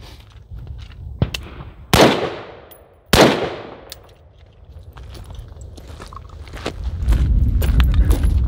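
Two sharp rifle shots of a 40-grain coyote round striking a ShotStop armor plate, each a loud crack with a quick decaying echo about a second apart, followed by faint shuffling and outdoor noise.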